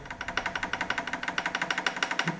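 An Audi UrS4 AAN engine idling with a rapid, regular knocking from a failing rod bearing, steady metallic taps repeating about ten times a second, fairly close and moderately loud.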